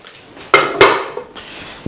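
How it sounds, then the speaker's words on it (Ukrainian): A metal roasting pan for baking homemade sausages is handled in a home kitchen, giving two sharp clattering knocks close by, then a softer bump and some light scraping. "Аліна, прошу подай, будь ласка, нашу посудину."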